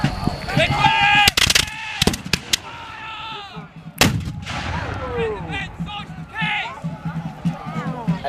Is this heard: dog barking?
no